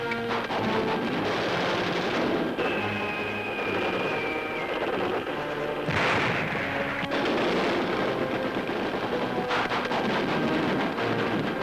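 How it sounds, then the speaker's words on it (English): Rapid-fire anti-aircraft guns in an archival wartime newsreel thump in repeated heavy bursts, booming and crackling over a continuous rough background, with a blast standing out midway. "Rapid-fire anti-aircraft batteries that are helping keep the skies clear of enemy"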